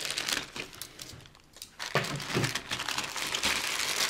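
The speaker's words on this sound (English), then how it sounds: "This is the great old plastic bag," A plastic bag holding model kit parts is opened with bursts of crinkling and crumpling, a brief lull midway, then louder, sustained rustling of the plastic up close.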